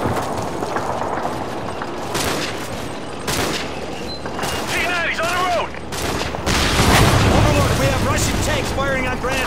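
Gunfire in Call of Duty: Modern Warfare 3 during a street fight with men on a roof: dense bursts of rifle and machine-gun fire with heavy booming impacts, loud and continuous, mixed with shouted radio voices.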